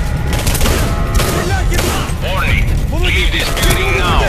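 Machine gun fire in a Singularity-style shooter game, dense rapid bursts and crashes layered under busy game effects and excited speech throughout.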